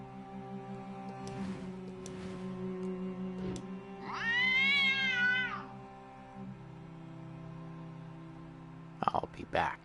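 A cat in the video game Déraciné lets out one long, drawn-out meow midway, ringing clearly over a steady ambient drone, with a person talking before and after it.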